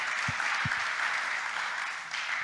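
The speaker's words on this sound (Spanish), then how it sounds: "¿Por qué no le damos un aplauso al Señor por la vida de cada uno de nosotros?" A church congregation gives steady, sustained applause with a couple of low thumps near the start, and no voices over it.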